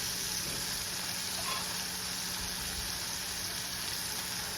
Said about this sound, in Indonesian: Kamu tumis bener-bener dia sampai masak.